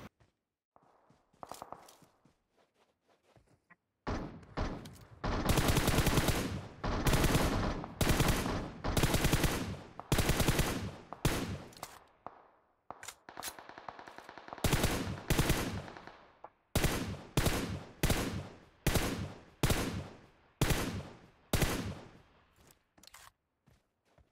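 Repeated bursts of automatic gunfire in PUBG Mobile on the Livik map, loud and close, with rapid volleys separated by short pauses and some quieter shots in between.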